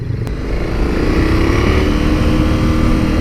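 A KTM Super Adventure 1290 motorcycle engine runs steadily at close range, a smooth, continuous droning hum with a brief click near the start and no speech over it.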